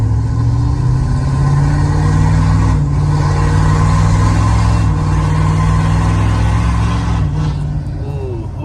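Tuned 2020 Ford 6.7 Powerstroke diesel truck with a 5-inch exhaust, heard from inside the cab with windows up: a loud, steady deep droning engine rumble that holds throughout, with slight shifts in pitch.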